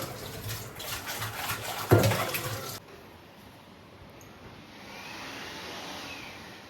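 Water runs and splashes from a tap as hands are washed for a few seconds, then it stops, leaving a quiet room hum.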